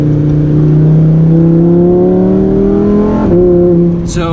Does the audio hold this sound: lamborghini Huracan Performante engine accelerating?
yes